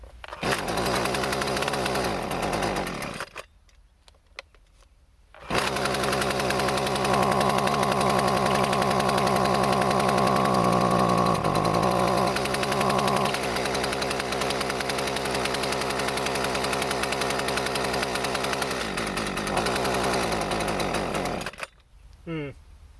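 Husqvarna 128CD string trimmer, a curbside find, running at its first start: the small two-stroke engine buzzes loudly, cuts out briefly, then restarts and runs steadily with some revving before shutting off near the end.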